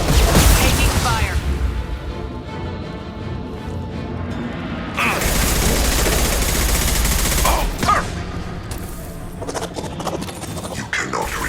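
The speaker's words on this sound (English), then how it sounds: "Taking fire." Gunfire from a Mass Effect 2 combat encounter against Collectors: dense bursts of loud automatic shots with mechanical clatter and scraping, coming in clusters between pauses, while a voice speaks over the fighting.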